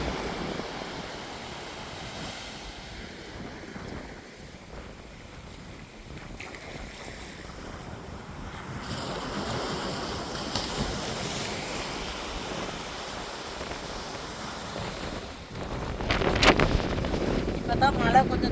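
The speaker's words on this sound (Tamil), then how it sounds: "மழை கொஞ்சம் தூவிக்கிட்டு காற்று அடிச்சுக்கிட்டே தான் இருக்குது" Strong cyclone wind roars on a beach with crashing waves and light drizzle, a continuous rough rush with gusts buffeting the microphone and a louder surge near the end.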